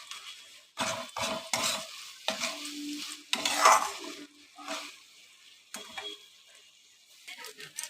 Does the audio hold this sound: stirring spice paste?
yes